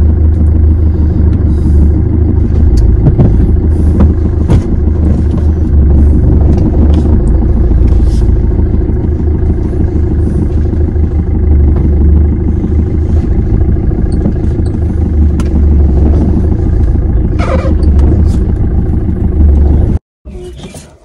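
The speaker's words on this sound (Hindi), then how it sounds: "तो देखिए हमारी गाड़ी स्टार्ट हो चुकी है।" A car engine that has just been started idles loud and close, a continuous low rumble with slight roughness that holds for about twenty seconds before it cuts off abruptly near the end.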